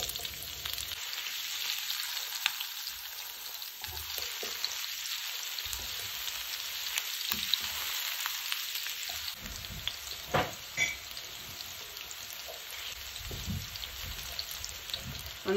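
Onions fry with fresh ginger in a pot as a soft, continuous crackling sizzle like light rain, fairly quiet and steady throughout with occasional faint clinks and no talking.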